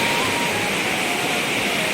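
A waterfall pours and water flows over open ground at a scenic spot in Chhattisgarh, giving a dense, steady rushing wash that fills the whole moment with no voices.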